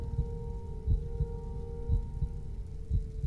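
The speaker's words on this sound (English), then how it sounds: "The heartbeat's getting louder." A steady, muffled heartbeat from the video game Little Nightmares thumps in regular beats about once per second over a low droning hum.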